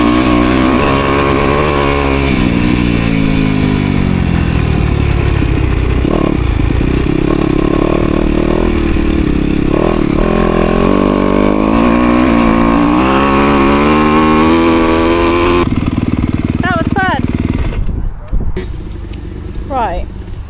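A motocross bike runs a lap of the track, its engine loud and close as it revs and shifts through changing pitches, with a rider's voice over it. The engine cuts away near the end, leaving quieter noises.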